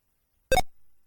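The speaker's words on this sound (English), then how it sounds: "There it is with the beep." A single short electronic beep from a ZX Spectrum flight simulator game written in BASIC, clean and isolated against silence, followed by a faint low tail.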